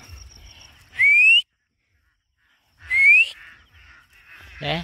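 A person whistles to call ducks on a small farm with corn and vegetable plots, two rising whistles about two seconds apart, close and clear, with a faint voice at the end.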